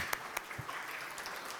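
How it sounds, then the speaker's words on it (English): Conference audience at a Java developer talk applauds quietly, with soft scattered claps and a few sharper individual hits over a faint, even wash. "we can give him applause"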